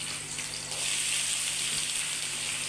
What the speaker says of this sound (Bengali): বাটার আগে আমি এটাকে একটু ফ্রাই করবো।